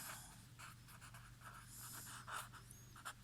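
Pen or marker writing during a Class 10 maths lecture on equations, short scratchy strokes coming in quick bursts, faint and close, with no talking.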